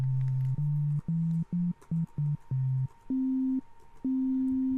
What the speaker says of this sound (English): how about let's just create a sine wave